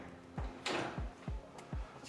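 A coat closet door being opened, giving a few soft low thumps and knocks in quick succession, with a brief brushing slide partway through, quiet and close.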